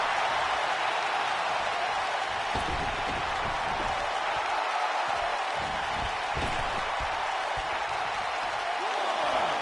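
A crowd in a WWE 2K19 wrestling arena roars and cheers steadily as a broad, loud wash of noise with occasional swells, continuous through the whole stretch.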